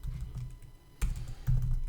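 Keys clack on a computer keyboard while a Python string is entered, a steady run of light taps with two louder bursts of strokes, close and alone with no talking.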